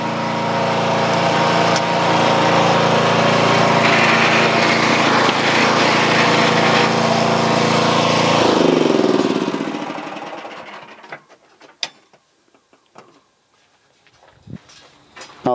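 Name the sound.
PVC pipe cutting and beveling machine running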